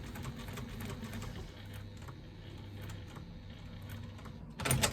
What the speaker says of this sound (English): I'm stitching at 1/8 of an inch seam allowance